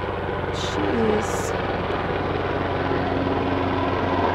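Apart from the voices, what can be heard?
military helicopter flying overhead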